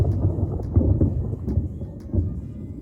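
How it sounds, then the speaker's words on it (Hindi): Thunder rolls over the hills of Himachal in a deep, continuous rumble with several swelling surges, fairly loud and close, with no voices. "ये देखो थंडरिंग हो रही है बहुत ज़्यादा"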